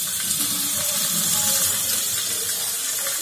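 Chopped tomatoes hitting a hot pan for chhole masala, a steady broad hiss and sizzle throughout with no talking.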